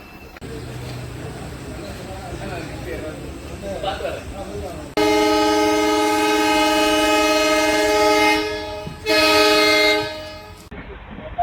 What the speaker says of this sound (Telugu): ప్రస్తుతం మనం ట్రైన్ స్పీడ్ అయితే చూడండి 114కి అయితే వెళ్ళింది.